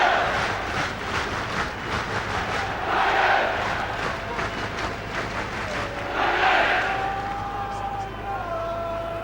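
A rugby match crowd between Leicester Tigers and Bath in 1998 roars and swells in two surging waves under a commentator's voice, the cheering dense and loud with whistles rising near the end.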